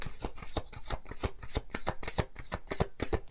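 Lenormand cards are shuffled up close in a quick, even rhythm of crisp riffling slaps and flutters. No other sound is present.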